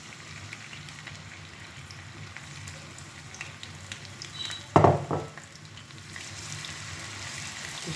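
Butter and vegetable oil sizzle in a frying pan with a soft, steady hiss, broken midway by a sudden loud crackling burst that fades back into the quiet sizzle.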